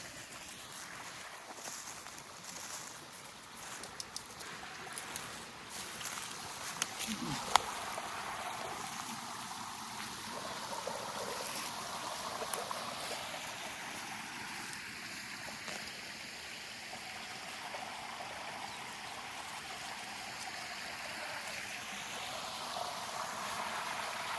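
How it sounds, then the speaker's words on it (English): A small waterfall on a homestead after a hurricane, heard as a steady, close broadband rush of falling water mixed with light wind noise, with no talking. "Here is another one of our fancy little waterfalls."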